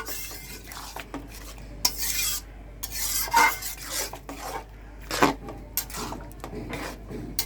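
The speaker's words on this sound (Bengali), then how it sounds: "এভাবে মিশিয়ে নিচ্ছি নাড়াচাড়া করে।" Mung lentil curry with vegetable stems being stirred in a pan, with repeated scraping and clattering of a spoon against metal, irregular and close, alone without talk.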